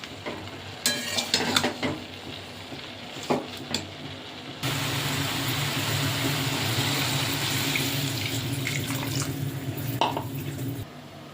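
Mustard greens are stirred in a hot pan, with scattered scraping and tossing followed by a steady, louder sizzle that continues to the end.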